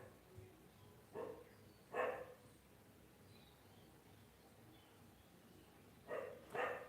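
A dog barks a few times at a distance, in two short pairs of barks over a quiet background.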